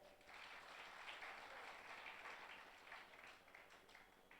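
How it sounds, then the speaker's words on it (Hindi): A kavi sammelan poetry audience applauds, a dense, even patter of clapping sustained throughout before tapering slightly at the end. "एक बार तालियां बजाइए।"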